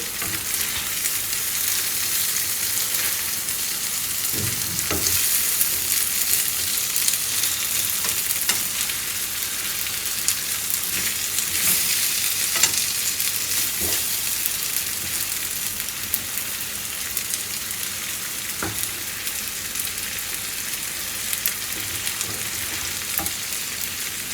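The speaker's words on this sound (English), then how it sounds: "So we'll allow this to fry for maybe just a few minutes. I'm going to turn them over again." Halved boiled eggs fry in a pan for an egg pepper fry, making a loud, continuous oily sizzle and hiss with occasional soft stirring scrapes, and no voices.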